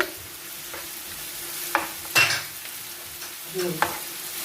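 Cassava flour dish stirred in a pot with stock cube broth added, giving scattered scraping strokes and a few sharp utensil knocks over faint simmering.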